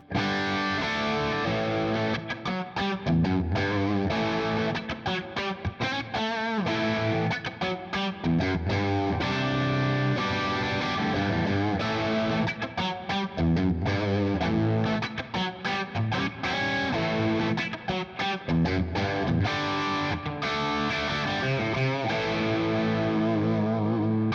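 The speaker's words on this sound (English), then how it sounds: "These are the original PRS pickups, and they sound really, really good." An electric guitar with original PRS pickups plays fast, driven, distorted riffs continuously for the whole stretch, dense and steady in level with no voices.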